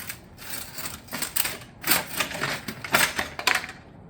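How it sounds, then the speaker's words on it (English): Metal valley panel for a cottage shingle roof being cut on a cutter, a run of sharp clattering mechanical snaps and rattles in quick irregular bursts, close and fairly loud with no talking. "we're going to go ahead and take that over to our cutter."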